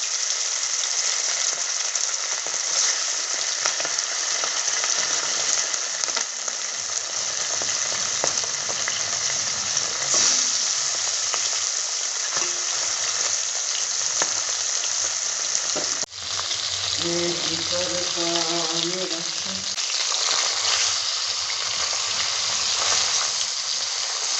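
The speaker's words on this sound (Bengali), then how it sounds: "তেল গরম হয়ে গেছে, এবার তাতে আমরা মাছটা ভেজে নেব" Tilapia frying in hot mustard oil sizzles in a loud, continuous, even hiss that runs throughout, with a brief clatter and faint tonal sounds near the end.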